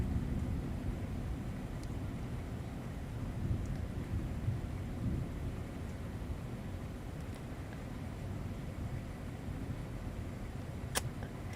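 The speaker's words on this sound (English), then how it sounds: "Pretty loud rumble of thunder there." Thunder rumbles low and continuous for about ten seconds in a stormy horror-film scene, with a steady wash of rain-like noise underneath and no voices.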